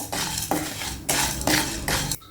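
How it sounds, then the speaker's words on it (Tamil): Cumin and black pepper being dry roasted in a pan, heard as a dry rattling scrape of spices stirred against the metal in several steady bursts, close and fairly loud. "இதையும் ஒரு ரெண்டு நிமிஷத்துக்கு நல்லா ட்ரை ரோஸ்ட் பண்ணி எடுத்துக்குவோம்"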